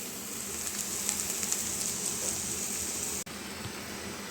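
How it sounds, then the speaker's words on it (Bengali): Red lentil dal meeting a hot tadka pan, a steady loud sizzle and hiss that fills the whole stretch, with a brief dropout near the end before the frying noise resumes. "আমি এই ডালটাকে ঢেলে দিয়েছি।"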